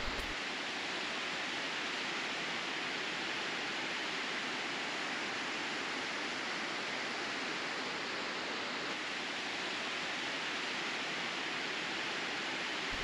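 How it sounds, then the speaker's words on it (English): Palapai Falls waterfall near Dumaguete in the Philippine mountains, water rushing down in a steady, dense roar that holds at an even level throughout, with no voices. "Imagine chilling by the waterfalls, surrounded by these chill sounds of water rushing down."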